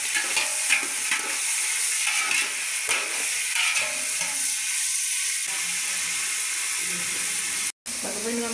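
Tomatoes, onions and green chillies fry and sizzle in a pan with steady broadband crackle, stirred now and then with scraping clicks; a brief dropout comes near the end.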